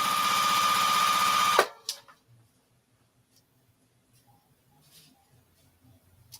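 A sewing machine stitches quilt fabric with a loud, close, even whir for about a second and a half, then cuts off abruptly, leaving near silence with a few faint clicks and rustles.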